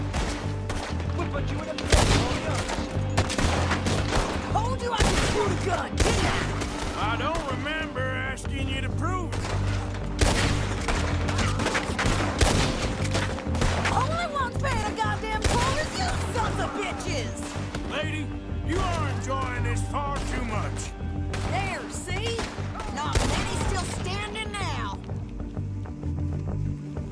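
Video-game gunfire from a Red Dead Redemption 2 shootout rattles in dense, repeated bursts throughout, mixed with frequent character voices speaking over the shots.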